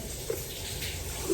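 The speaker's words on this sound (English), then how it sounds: "He's taking a shower." Shower running at a truck stop, a steady close hiss of spraying water with a brief splash, continuous and unbroken.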